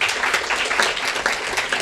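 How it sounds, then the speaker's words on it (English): An audience at a community investment event applauds a guest speaker, steady moderate clapping with no voices over it. "Let's give her a round of applause."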